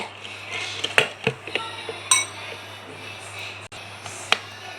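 Light clinks and taps of a spoon against a bowl as a creamy fruit salad is stirred with white pepper, scattered sharp contacts over a quiet room hum.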